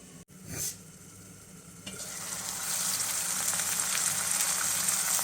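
Onions frying in a covered pan give a steady, close sizzle that builds and grows louder over several seconds, after a brief clink of the lid at the start.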